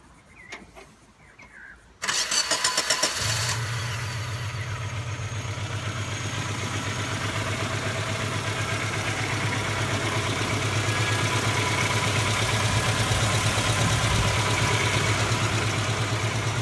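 A vehicle engine that had been loud and rattly cranks briefly and catches, then settles into a steady, close idle with a constant low hum and broad noisy rattle.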